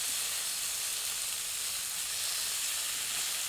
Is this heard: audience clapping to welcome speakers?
no